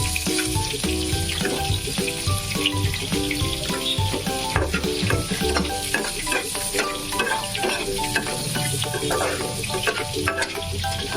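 Onions frying with salt in a pan, a dense steady sizzle with constant spatula scraping and clinks throughout, close up and alone.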